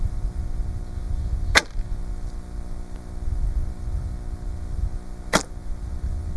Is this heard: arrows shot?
yes